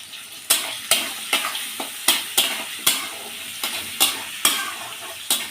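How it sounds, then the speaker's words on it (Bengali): A spoon scrapes and stirs turmeric and spices frying in a pan for an aar fish curry with radish, about a dozen regular strokes over a steady close sizzle. "গুঁড়োটা একটু ভাজা ভাজা করে নেব"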